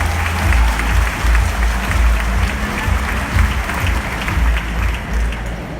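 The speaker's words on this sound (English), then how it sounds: "let's give a round of applause to Congressman Kiko" An audience claps loudly and steadily for a reelected congressman at an inauguration and oath-taking ceremony, a dense sustained round of applause lasting several seconds with no voices on top.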